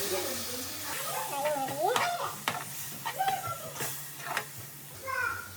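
Fish coated in fish fry masala frying in a pan, a steady close sizzle and hiss under children's voices and stirring clatter.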